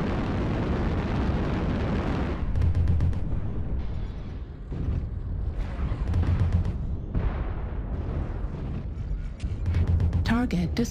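Missile explosions striking in the MechWarrior Online video game, rumbling booms and crackling bursts arriving in repeated waves over a constant mechanical din, loud and close, with spoken cockpit voice alerts mixed in.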